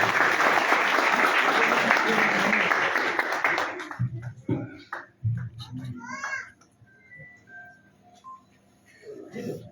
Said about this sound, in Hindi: भाई देवेंद्र जी जोरदार तालियों से स्वागत करें।